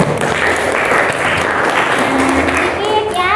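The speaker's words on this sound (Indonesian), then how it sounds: "Tepuk tangan untuk kalian semua." Classroom of students clapping together at the end of a lesson, a loud, close burst of many hands with voices and chatter mixed in, a few shouts rising near the end.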